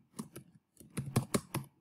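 Typing on a computer keyboard while entering text into a word-processor table: quick bursts of key clicks, a few isolated taps, then a denser run of strokes, close and clear with no talk.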